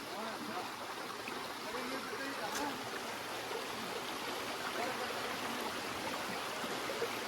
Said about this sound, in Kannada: ಏನು ಈ ಥರ ಹರಿತೈತೆ ನೀರು